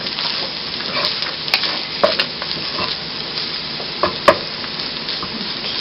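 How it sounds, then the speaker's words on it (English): Seasoned rice with cumin being stirred in a hot pan, a soft sizzle throughout with scattered scraping clicks of the spoon against the pan, close and moderately loud. "Stir it really well so all that good cumin gets into"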